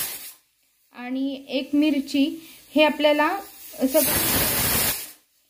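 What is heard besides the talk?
pressure cooker whistling and releasing steam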